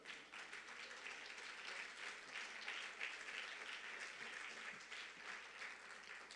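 Applause from a church congregation praising Jesus during a Spanish-language evangelism sermon, a steady, even wash of clapping sustained throughout, fairly faint and distant.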